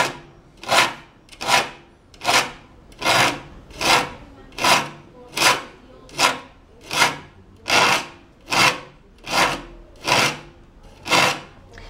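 A hand file rasps across the teeth of a handsaw being sharpened, a steady run of about a dozen even, loud strokes at a regular rhythm, close up and with no talking.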